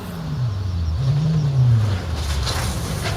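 A rally car at the Royal Rally of Scandinavia drives fast, its engine loud and close with rising and falling revs through gear changes.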